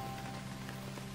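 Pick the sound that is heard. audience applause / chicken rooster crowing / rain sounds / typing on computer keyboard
rain sounds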